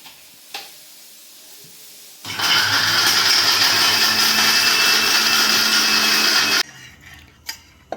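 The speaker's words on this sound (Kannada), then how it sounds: "ಲೈಟಾಗಿನೇ ಸ್ವಲ್ಪ ಮಿಕ್ಸಿ ಮಾಡ್ಕೊಂಬರೋಣ ಅಂತ" A kitchen mixer grinder coarsely blending coconut, garlic and coriander runs loud and steady for about four seconds, then stops abruptly, with faint handling clicks before and after.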